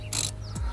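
A hand ratchet clicks a few times on a bolt during a worn wheel bearing job on a Vauxhall Vectra, giving short, close, sharp mechanical bursts with a faint scrape.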